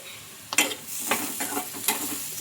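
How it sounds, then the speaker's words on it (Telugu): Curry leaves and finely chopped tomato go into onions frying golden in oil, giving a close, steady sizzle broken by a few sharp scraping stirs. "ఇప్పుడు ఇందులోకి కరివేపాకు, అలాగే చిన్నగా కట్ చేసుకున్న టమాటో ముక్కలు కూడా వేసుకోవాలి"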